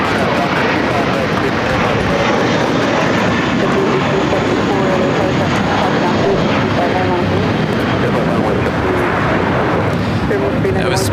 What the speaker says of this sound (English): That was Spirit Airlines Flight 391 heading to Pittsburgh on an A320